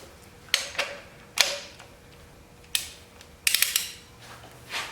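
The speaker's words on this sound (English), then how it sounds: "Tighten her up. Torque wrench set." A torque wrench tightens ARP head studs on a 1981 Pontiac Trans Am engine during an engine swap, giving several sharp ratcheting clicks and short bursts spaced irregularly, close and clear, with no talking.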